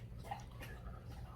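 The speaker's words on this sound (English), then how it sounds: "it's not the ocean, it's Rowdy drinking water from his bowl." A dog laps water from its bowl, with faint, soft, irregular wet slurping sounds close by.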